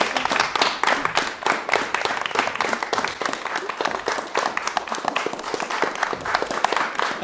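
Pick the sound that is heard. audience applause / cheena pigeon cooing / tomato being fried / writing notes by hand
audience applause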